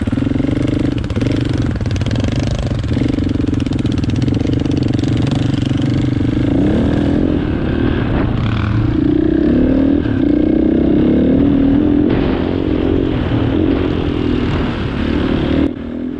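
Dual sport dirt bike ridden on a Southeast Nevada trail between Caliente and Mesquite, its engine droning steadily and loudly throughout, with rising and falling pitch as the rider works the throttle, plus wind and rumble underneath.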